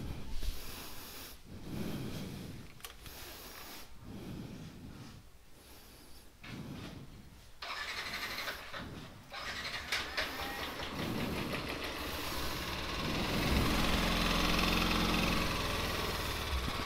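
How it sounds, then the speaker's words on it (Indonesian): Yamaha NMAX scooter engine cranking, catching and settling into a steady idle while it warms up, with a few sharp mechanical clunks early on before a continuous rising engine drone fills the second half. "Jadi kali ini saya lagi manasin motor"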